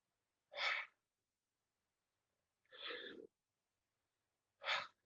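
A person demonstrates a wrong, broken breathing pattern during a breathwork session: three separate sharp breaths, short and forceful, spaced by silent pauses. They sound close and clear, with no talking between them.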